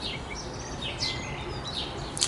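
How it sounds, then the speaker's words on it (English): Birds sing outdoors on a mild, overcast day, scattered chirps and short whistled calls rising above a steady hiss of wind or ambient noise, fairly distant and soft. "So you hear the birds again."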